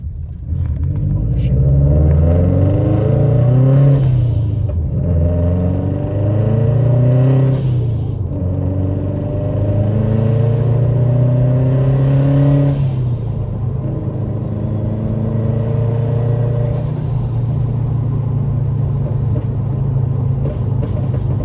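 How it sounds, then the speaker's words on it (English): A Subaru WRX engine on a tune revs repeatedly through its range, loud rising and falling engine tones in several long pulls close by, with people talking over it. "I just wanted to see you take it through the rev band, make sure everything's still happy"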